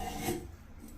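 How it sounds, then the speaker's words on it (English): A short, quiet rasping rub of sandpaper scouring the end of freshly cut copper pipe during tub spout plumbing work, heard alone. "Make sure you clean it with sandpaper or the brush, whatever you want to use."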